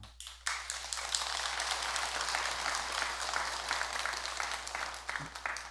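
A temple audience applauds during a Buddhist dharma talk at Jogyesa, a sudden burst of many hands clapping that swells quickly and holds as a steady, moderately loud patter for several seconds.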